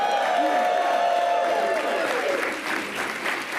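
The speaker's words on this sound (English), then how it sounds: "So give her a round of applause." A crowd applauds at a census kick-off rally in New York City, steady clapping and some cheering filling the space, gradually thinning toward the end, with a voice faintly mixed in.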